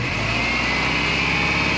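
Car engine revving steadily while an alternator charges a DIY lithium LiFePO4 car battery, a loud continuous roar with a whine on top and no talking.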